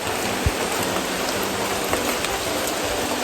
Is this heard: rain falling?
yes